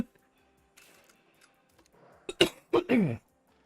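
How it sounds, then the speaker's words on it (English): A couple of quiet, close coughs near the end, preceded by soft shuffling and faint background noise. "I excuse all this coughing."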